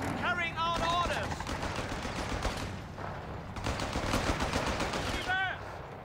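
Machine gun fire in the Company of Heroes 3 video game rattles in steady bursts, mixed with other battle noise and voiced unit callouts.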